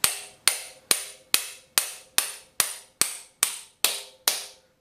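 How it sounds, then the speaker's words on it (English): A 16-ounce ball peen hammer strikes a metal tool eleven times in a steady, even rhythm, each blow a sharp ringing clang that quickly fades. "I usually use a hammer that's a 16 ounce or better ball peen hammer"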